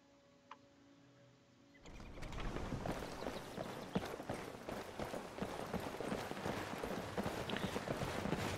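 Horse hooves clip-clopping in a fantasy role-playing game, a steady trotting rhythm that starts after a quiet moment and continues close and clear without talk.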